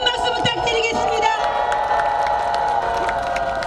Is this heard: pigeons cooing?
no